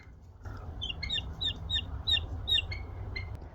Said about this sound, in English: are these baby chicks making a lot of noise in here?